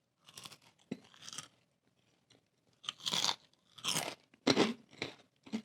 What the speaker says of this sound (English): just hear the crunch